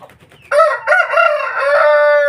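A four-month-old fighting rooster crows loudly and close, one long drawn-out call following a few brief clucks.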